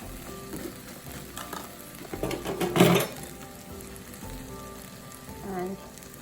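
Browned onions with potatoes and other vegetables sizzling in an Instant Pot for pav bhaji, a close, even frying hiss, swelling as a spoon stirs and scrapes the pot near the middle.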